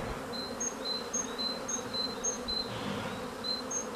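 Honey bees buzz steadily around a hive on a bee yard, a continuous droning hum with individual insects passing close by in repeated high whines.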